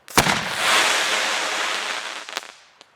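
A fireworks mine fires from close range with a sharp launch bang followed by a long bright hissing, crackling spray that fades over a few seconds, a couple of small pops at the end.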